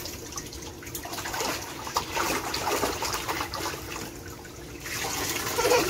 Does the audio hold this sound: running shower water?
yes